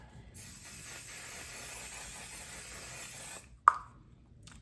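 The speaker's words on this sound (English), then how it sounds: "I follow that up with the One Size On Till Dawn" A steady fine hiss of makeup setting spray for about three seconds, close by, then a brief click or tap after it stops.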